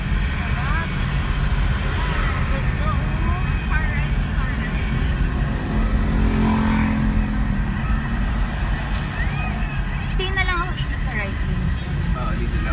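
Steady city road traffic near Manila City Hall, a continuous loud rumble of cars, trucks and buses passing close by, with people talking over it throughout.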